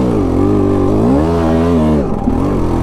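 A KTM 200 XC two-stroke dirt bike revs loudly up a steep hill climb, its engine note rising and falling in continuous close-up bursts before dipping briefly near the end.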